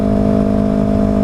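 Yamaha R3 motorcycle fitted with a loud M4 Street Slayer exhaust, idling in a steady, close, heavy drone with a low throbbing rumble and no voices.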